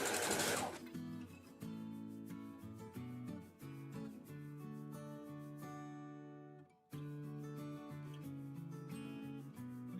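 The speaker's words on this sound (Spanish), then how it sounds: "vamos a continuar pegándolo por todo el escote" A sewing machine stitches elastic lace along the neckline of a bodysuit in rapid, steady bursts, loud and close, with a short pause before stitching resumes.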